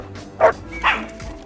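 A dog gives two short, sharp barks about half a second apart, close and clear over a quiet background.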